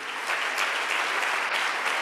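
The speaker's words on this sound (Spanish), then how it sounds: "Dale una ofrenda de palmas al Rey." Steady, dense applause from a church congregation offering praise, a continuous wash of clapping with no pauses.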